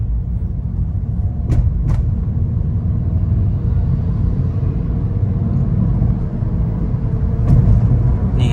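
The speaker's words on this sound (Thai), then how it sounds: "ผมจะลองกดคันเร่งดูนะครับ" A car with a slipping automatic transmission that shifts at high revs, its engine giving a loud, steady low rumble close by that swells slightly toward the end, with no speech.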